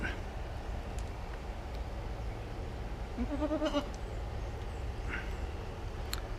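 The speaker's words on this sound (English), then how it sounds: "I want to introduce you to my new friend, the baby goat" A baby goat gives one brief wavering bleat outdoors in Sabang, Philippines, set against a continuous rumble of background noise.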